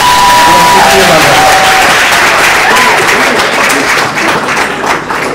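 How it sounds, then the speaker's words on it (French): An audience breaks into loud, sustained applause and cheering at a stage show, dense clapping that holds strong before easing slightly toward the end. "plus d'applaudissements, s'il vous plaît, pour la soutenir, madame"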